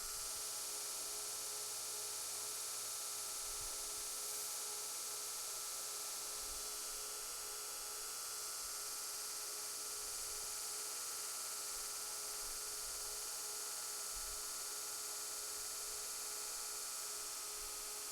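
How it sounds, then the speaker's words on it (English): Continuous hissing abrasive noise of a belt sander doing 120-grit cleanup sanding on a hand-forged steel knife blade, steady and fairly loud with no talking throughout. "It's really just doing the cleanup sanding, making it look pretty."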